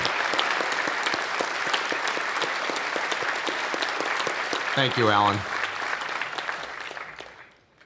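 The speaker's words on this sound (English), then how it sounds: "Please join me in a sincere round of applause for all that Alan contributed to the advancement of our university" Steady round of applause from the audience at a university presidential inauguration ceremony, continuous dense clapping that carries on under a brief spoken line before fading out at the end.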